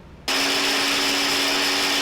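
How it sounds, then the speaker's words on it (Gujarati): A mixer grinder switches on abruptly and runs at a steady, loud, high-pitched whir, blades continuously crushing chutney ingredients including salt and whole cumin, with no talking. "હવે આ બધી ક્રશ કરી લેશું આપણે"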